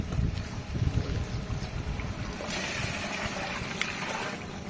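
Water poured into simmering vegetable biryani masala in a cooking pot, a continuous rushing splash that is fairly faint and uneven, with no talk over it.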